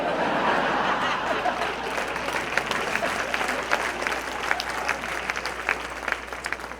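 Audience clapping and some chuckling during a motivational talk by Nick Vujicic, a steady wash of applause from a large crowd that thins toward the end into scattered louder claps.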